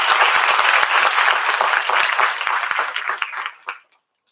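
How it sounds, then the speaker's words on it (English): Audience applauding guests on the dais at an academic event, dense clapping close by with a few sharp individual claps, tapering off and ending near four seconds. "A big round of applause for everyone sitting on the dais."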